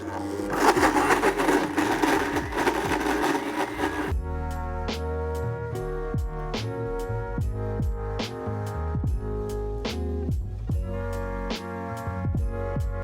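A blender motor roars loudly and steadily, its pitch rising and dipping in repeated surges as mayonnaise, sour cream and blue cheese churn.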